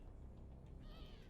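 A cat meows once, a short clear call in a game setting, Half-Life: Alyx, heard alone against a quiet low background hum.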